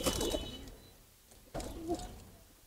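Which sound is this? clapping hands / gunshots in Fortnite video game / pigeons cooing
pigeons cooing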